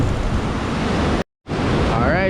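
Ocean waves splash and crash on coastal rocks at an Australian rock-fishing spot, a loud, close wash of rushing surf that briefly cuts out, then resumes with a voice faintly beginning at the end.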